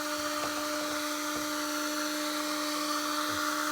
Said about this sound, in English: Obviously be very careful, because this thing is by definition hot, because it's a heat gun.